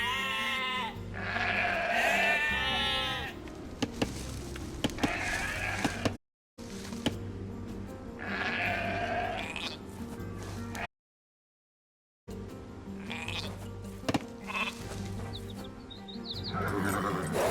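Sheep in the Age of Empires 2 Definitive Edition strategy game bleat in several wavering calls, loud and close, separated by gaps of silence over game effects and a low musical drone.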